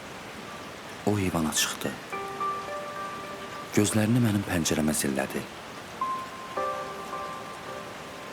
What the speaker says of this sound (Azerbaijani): Səhərdən yağmağa başlayan narın yay yağışı birdən güclü leysana çevrildi.